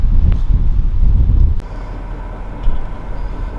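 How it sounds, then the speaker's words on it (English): Strong wind buffets the microphone outdoors in Kansas with a heavy low rumble that drops briefly, then gusts up again. "It's been just blowing."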